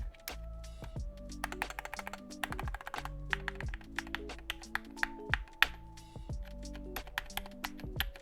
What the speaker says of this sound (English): an inconsistent sound all around when you're typing on this keyboard